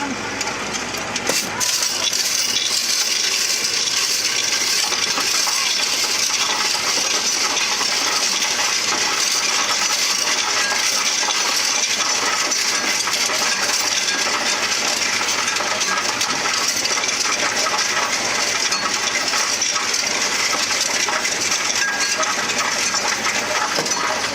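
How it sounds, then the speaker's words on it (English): A rush of coins pours into a coin counting machine, a continuous dense jingling and clattering that lasts for many seconds. "Put in coins."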